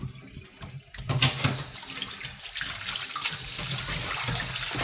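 Tap water runs into a basin as fish is rinsed, starting with a few splashes then settling into a steady close gush of running and sloshing water, no talking.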